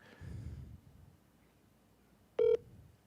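Telephone keypad dialing while placing a call, a single short, loud electronic tone beep after quiet room noise and a soft breath.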